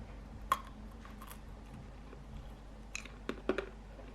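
Homemade grape jam candy is bitten and chewed close to the mic, giving a few soft crunchy clicks and chews scattered over a quiet background.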